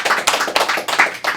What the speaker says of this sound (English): I want y'all to clap it up for yourselves for showing up.